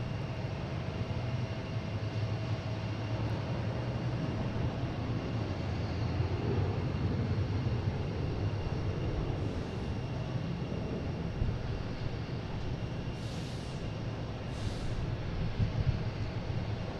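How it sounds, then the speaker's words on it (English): A Delta Airbus A321 takes off at Boston Logan airport, a broad, sustained jet engine roar heard from a distance that stays steady throughout with no voices. "taking off is Delta, heading to Atlanta in A321"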